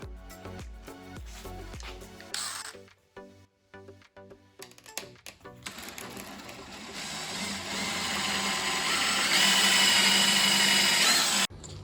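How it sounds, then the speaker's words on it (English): Power drill boring a 3/8 inch hole through a rubber grommet on a Tesla Model 3, starting with short bursts and then a long, loud, steady whine that cuts off abruptly. "taking this little grommet here and putting a 3/8 inch hole in there"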